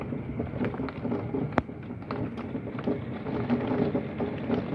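Heavy rain pours steadily during a severe thunderstorm with marble-sized hail and mild wind gusts, a dense, constant wash of noise with a brief sharp crack partway through.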